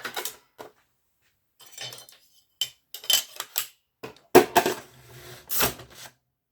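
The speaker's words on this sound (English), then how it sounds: "What that does is it changes the angle of the lower shear so that it should give us now a good cut" Metal shears make a series of sharp, close clicking cuts after their lower blade angle is adjusted, arriving in irregular bursts separated by brief silences.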